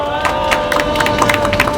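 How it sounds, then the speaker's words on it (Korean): Congregation at a church peace prayer gathering applauds the youth members who prepared it, a dense, steady wash of clapping and crowd noise filling the short stretch at close range. "힘써 주시고 준비해 주신 청년 신도에게 힘찬 격려의 박수 부탁드리겠습니다."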